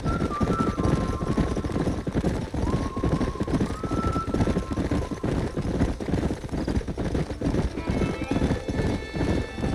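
Horses gallop in the video game Red Dead Redemption with steady clip-clopping hooves and loud whinnies, with background voices and game noise layered over the hoofbeats.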